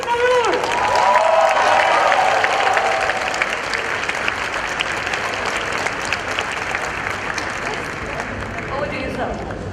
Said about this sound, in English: please welcome on stage with a bigger round of applause, Dr. Shashi Tharoor.